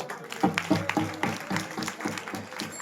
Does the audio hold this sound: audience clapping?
yes